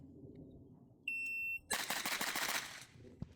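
A 9mm JP5 pistol-caliber carbine fires a rapid string of loud, close shots on an outdoor range, preceded by a steady electronic shot-timer beep.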